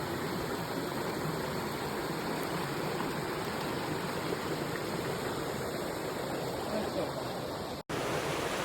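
A mountain river flows in a steady, broad rushing wash that stays even and close throughout and cuts out briefly near the end.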